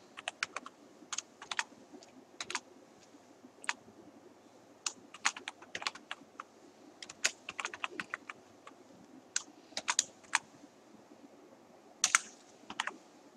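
Someone types on a computer keyboard while entering Python code, with close, crisp, irregular keystrokes in quick clusters and brief pauses.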